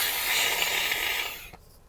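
A human voice imitating a hissing cat, one loud, sustained breathy hiss lasting about a second and a half before cutting off sharply.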